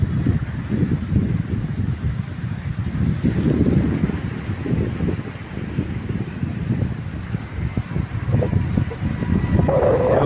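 Floodwater waves surge and churn around submerged village houses in Cumilla, a continuous rough wash of water heavily mixed with wind buffeting the microphone throughout.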